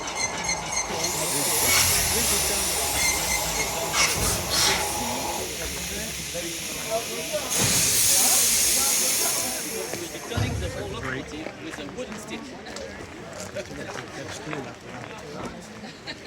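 A small steam locomotive of up to 7 tons vents long, loud hissing bursts of steam close by, rising and fading over several seconds, while people talk throughout.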